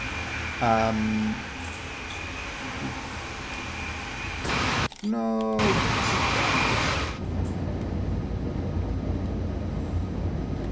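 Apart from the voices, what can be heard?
DB BR 101 train running in Train Sim World 3 video game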